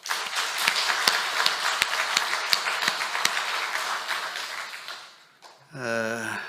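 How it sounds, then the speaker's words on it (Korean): A congregation at a Saturday dawn service in a Seoul church applauds in praise, a busy wash of clapping with a few sharp, distinct claps. It fades after about five seconds, and a voice then begins speaking. "좋은 목사님을 보내주신 하나님께 영광의 박수를 한번 돌리십시다."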